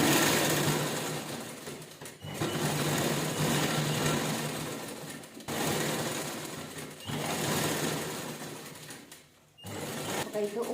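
A sewing machine runs in long continuous bursts, stitching a cloth vegetable bag, with short pauses between runs; close and fairly loud, with a voice faintly present in the background.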